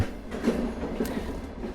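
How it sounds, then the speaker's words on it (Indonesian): A train rolls along the rails at night, its wheels giving a soft, steady clatter under a continuous low rumble, heard from inside a carriage without talking. "Rasakan getaran pelan dari rel di bawah kaki. Dengar suara tak, tak, tak yang teratur."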